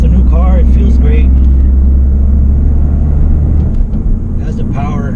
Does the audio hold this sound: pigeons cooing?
no